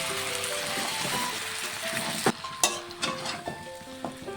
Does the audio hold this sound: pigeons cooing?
no